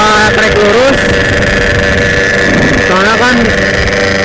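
A freshly polished motorcycle revs on a straight stretch of track, its engine pitch climbing sharply twice, once early and again near the end, over a loud, steady drone with wind buffeting the microphone.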